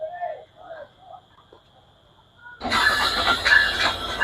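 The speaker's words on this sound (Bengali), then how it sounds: "ঢাকা থেকে ছেড়ে আসা সিল্ক সিটি এক্সপ্রেস ট্রেনটি এই মুহূর্তে প্রবেশ করলো আব্দুলপুর রেলওয়ে জংশন স্টেশনের 3 নম্বর প্ল্যাটফর্মে" The Silk City Express from Dhaka pulls into platform 3 at Abdulpur railway junction. A quiet stretch with faint tones gives way abruptly to a loud, broad rumble and clatter that carries on to the end.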